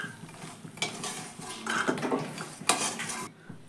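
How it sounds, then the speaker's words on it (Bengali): A metal spatula scrapes and clinks against a wok as fried lentil dumplings are lifted out of hot oil, giving repeated close clattering strokes over a faint background sizzle, louder toward the end. "এবার বড়িগুলোকে আমি তুলে নিচ্ছি"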